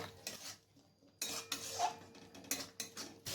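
Spice paste stir-fried for a soybean curry, with metal spoon scrapes and clinks against the pan coming in short bursts between quiet pauses.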